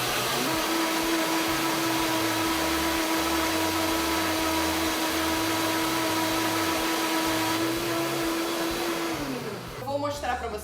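A countertop blender, either a Ninja or a Vitamix, runs loud and steady for about nine seconds with a constant motor whine and churning, then winds down abruptly near the end.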